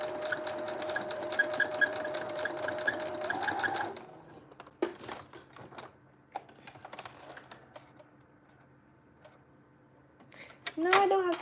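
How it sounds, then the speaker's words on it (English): A sewing machine runs steadily while stitching an elastic band into a garment, a close whirring hum for about four seconds. It then stops, leaving light handling clicks and thread-cutting sounds with a brief voice near the end. "I'm going to sew next to these stitches one more time for extra security purposes."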